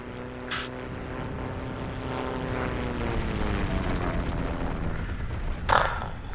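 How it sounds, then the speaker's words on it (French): Propeller aircraft drone overhead in the Heroes & Generals war game, a loud, steady engine hum with shifting pitch, plus a few brief sharp in-game noises. "Ah, il y a même les avions et tout."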